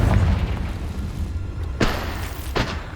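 Two sharp blasts from the Confringo fire spell in Hogwarts Legacy burst out over a rumbling game soundscape, the first louder near the middle, the second a little weaker shortly after.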